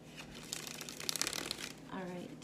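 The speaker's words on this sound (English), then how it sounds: "I'm going to shuffle both decks." Two decks of playing cards are shuffled indoors, giving bursts of riffling and crisp flicking, followed by a voice speaking briefly near the end.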